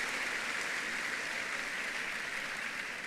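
Church congregation applauding during a service, steady dense clapping that sounds like rain, moderately distant and unbroken for a few seconds.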